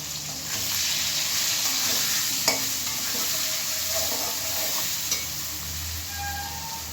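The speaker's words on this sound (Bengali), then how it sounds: "নুন, সামান্য হলুদ দিয়ে আলু পেঁয়াজটা খুব ভালো করে ভেজে নেব" Potatoes and onions frying with salt and turmeric, a constant hissing sizzle with a couple of faint utensil knocks, heard up close without any talk.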